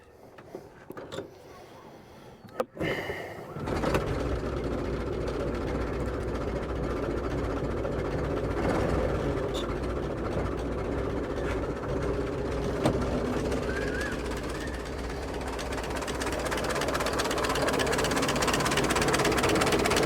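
A 1915 Dodge Brothers car engine is started after a tappet cover gasket replacement, catching after a few clanks and then settling into a steady, close idle that runs evenly to the end.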